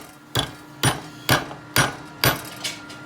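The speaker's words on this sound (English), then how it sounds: "I'm gonna keep tapping it with this hammer until I get it about where I think that thing will grip" Hammer tapping a nail into place on a 2.4 Ecotec engine, six sharp metallic strikes at a steady, slightly uneven rhythm, close and clear, the last one softer.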